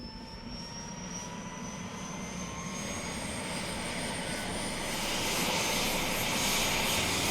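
A steady, loud rotor and engine roar from inside a metal-bodied helicopter filming over an active volcano, building slightly and continuous throughout with no talk.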